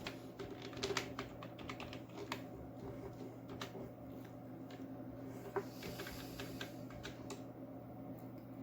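Code being typed on a computer keyboard: a steady run of quiet, irregular key clicks over low background hum, with no talking.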